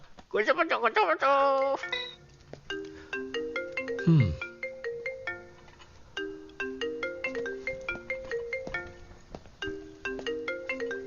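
A telephone plays a melodic ringtone, a bright repeating tune that cycles several times at steady volume, with a brief voice and a sliding tone near the start.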